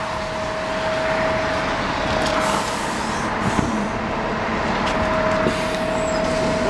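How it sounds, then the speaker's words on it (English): A city bus idles close by with a loud, steady engine rumble and a thin whining tone, broken by a brief hiss of air brakes. "Let's get on the bus."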